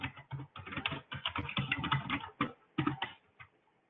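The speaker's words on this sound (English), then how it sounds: "If they give you a different phone number, we'll just type that over here" Computer keyboard typing, a quick close run of bursts of keystrokes with short pauses, fading out at the end.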